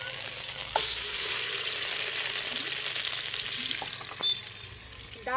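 Banana flower paste frying in mustard oil in a wok, giving a steady, close hiss of sizzling with a few faint clinks and stirring knocks throughout.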